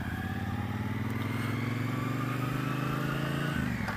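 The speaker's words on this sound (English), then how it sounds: "I want to ride the Triumph" A 2017 Triumph Bobber motorcycle being ridden, its engine droning steadily at a fairly even pitch with a slight change near the end, continuous and close with wind rush and no talking.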